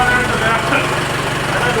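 A tractor engine runs steadily nearby in a rural setting, a loud continuous low hum and rumble with voices talking over it.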